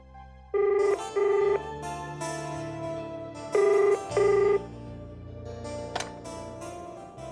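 A telephone rings in a tense Hindi horror drama scene, two double bursts of a bright electronic ring about three seconds apart, loud and close over a low background hum.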